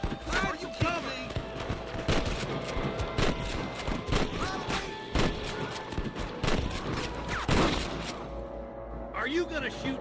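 Gunshots crack repeatedly in a Wild West shootout with rustlers, sharp bursts scattered at irregular intervals, mixed with voices, hoofbeats and game-like background sound.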